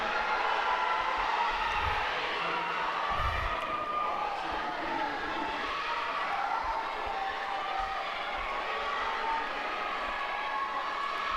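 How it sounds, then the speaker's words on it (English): Football crowd at an inter-college championship final cheering from the stands, a continuous broad roar of massed voices sustained throughout at steady loudness, with a couple of low thumps near the start. "The fans cheering."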